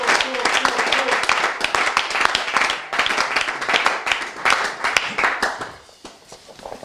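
A congregation at a French-speaking church service claps and cheers: dense, steady applause with shouts and voices running throughout, fading slightly toward the end.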